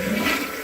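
A Storm toilet flushes with a loud, close rush of water that fills the whole moment, continuous and turbulent, with no talking.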